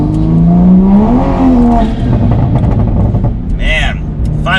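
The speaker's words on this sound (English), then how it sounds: "Do a few more accelerations and then wrap it up." A Toyota Supra fitted with an Armaspeed carbon fiber air intake accelerates hard, its engine note rising in pitch and then settling into a loud, buzzy drone from inside the car, with a voice talking over it near the end.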